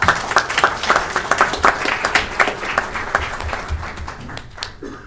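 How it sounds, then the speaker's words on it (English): An audience applauds with brisk, scattered clapping that holds steady, then thins out and fades toward the end. "Let's give a big round of applause to the municipalities who apply for this grant."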